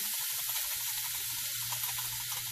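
Onions and butter frying in a pan, giving a steady close sizzle with a soft low bubbling underneath, no talking.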